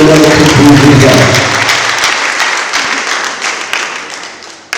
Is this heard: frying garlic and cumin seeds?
no